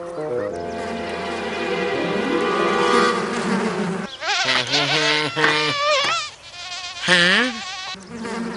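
A buzzing drone that rises and falls in pitch, like a voice imitating bees, with a short spoken exclamation near the end.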